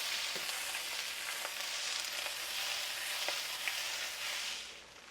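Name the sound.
corn sautéing in butter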